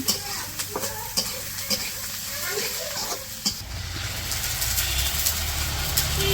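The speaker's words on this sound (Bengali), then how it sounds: "এদিকে মুরগির মাংসের মশলা কষাইতেছে" Chicken pieces in spice paste sizzle and fry in a pan, with repeated sharp scrapes and knocks of a stirring spoon in the first half, then a steadier, louder sizzle.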